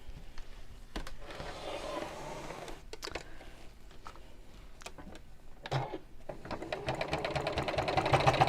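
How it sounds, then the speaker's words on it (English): Sewing machine stitching close to the edge of a fabric circle, a steady mechanical whirr that runs in short bursts with pauses and builds to a faster, louder run at the end. "And then we'll sew around the edge of the circle."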